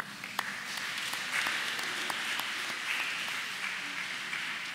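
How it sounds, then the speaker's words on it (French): A Sunday Mass congregation warmly applauds the parish choir, a steady, full wash of many hands clapping in a reverberant church, with a few sharper claps standing out and no talk over it. "que je vous demande de l'applaudir chaudement"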